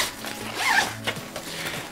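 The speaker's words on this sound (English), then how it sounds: "And it's zipper closure." A zipper on a mesh packing cube is pulled shut in one quick run of about a second, close and clear, with no talk over it.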